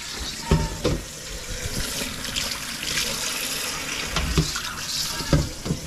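Hot water runs from a kitchen tap in a steady, close splashing stream, with a few louder clatters and splashes as it fills.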